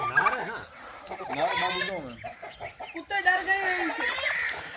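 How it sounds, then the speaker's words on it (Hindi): Agitated poultry cluck and squawk close by as a turkey and rooster fight, with a voice talking over the flurry of calls. "टर्की गुस्से में आ गया, उसने कुक्कड़ को मारा है बहुत"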